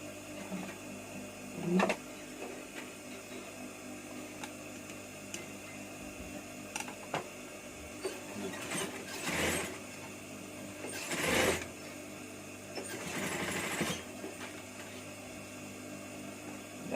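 A sewing machine stitching the edges of a two-layer cloth face mask, running in short mechanical bursts with ticking and whirring, moderately close and with no talking.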